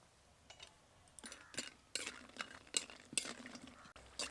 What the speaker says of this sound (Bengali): বড়িগুলোকে প্রথমে ভেজে নেব বড়িগুলো তেলের মধ্যে দিয়ে দেব